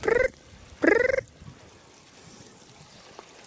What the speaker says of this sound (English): Another frog that comes out right now is the tree frog, and it almost sounds like a bird